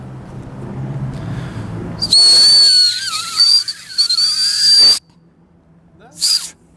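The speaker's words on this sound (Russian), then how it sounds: "этот вот петербургский тактический свисток" A shrill, piercing tactical whistle blown hard for about three seconds with a wavering pitch, then a short second blast after a pause.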